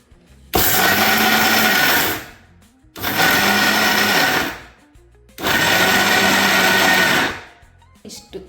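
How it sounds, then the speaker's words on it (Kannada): Mixer grinder pulsing flax seeds and cardamom to a coarse texture: three loud, sustained whirring bursts of about two seconds each, separated by short quiet gaps as it is switched off and on. "ಇವಾಗ ಇದು ಫುಲ್ ಗ್ರೈಂಡ್ ಆಗಬೇಕಂತ ಇಲ್ಲ, ಸ್ವಲ್ಪ ತರಿಯಾಗಿ ಆಫ್ ಆನ್ ಮಾಡ್ಕೊತೀನಿ ಅಷ್ಟೇ"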